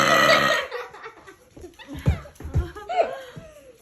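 Deliberate burps made on request, a couple of short guttural bursts rising through the middle of the clip, close and fairly loud, mixed with laughter and brief voices.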